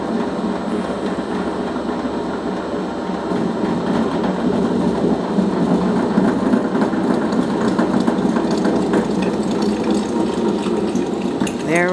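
A maple cream machine runs with thick, cold maple taffy fed into its pump, a loud, steady mechanical whirring and rattling hum that holds for the whole stretch without any speech.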